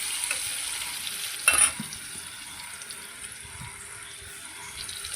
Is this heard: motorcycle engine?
no